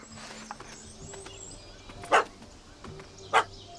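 A puppy in The Witcher 3: Hearts of Stone gives two short, sharp barks about a second apart, set against quiet in-game ambience.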